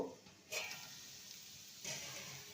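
Papaya and potato pieces frying in a covered pan at medium heat, giving a soft, steady sizzle with two brief louder surges of crackling.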